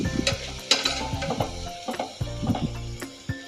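Ground turmeric, coriander, garam masala and chili powder frying in hot oil for a vegetable kurma, heard as a soft sizzle with a spoon stirring and scraping the pan in short, close strokes.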